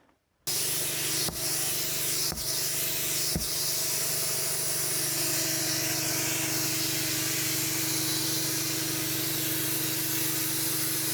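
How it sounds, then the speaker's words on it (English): Compressed air roars steadily and loudly from a gutted air fitting free-flowing into a tire to seat its bead, a continuous hiss broken by a few sharp pops near the start. "I've got an air fitting where there's nothing on the inside. It's gutted, so it just free flows whatever the hose can supply."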